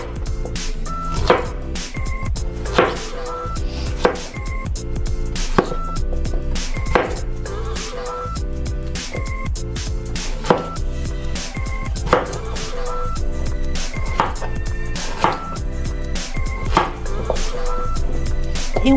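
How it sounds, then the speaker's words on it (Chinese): A knife chops potatoes into large chunks on a cutting board, loud rhythmic thuds arriving steadily and close, with occasional clinks of the blade against the board between strokes. "马铃薯呢切成块状"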